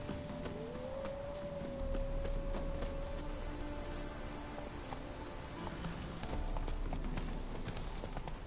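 Roach the horse trots in Witcher 3: Blood and Wine, a steady run of soft clip-clop hoofbeats under game ambience and a faint tonal sound, fairly quiet and without talk.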